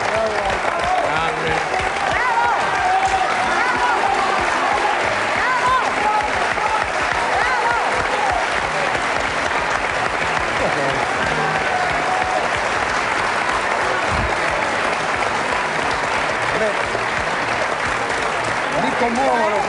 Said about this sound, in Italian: Mi commuovono questi applausi, mi commuovono.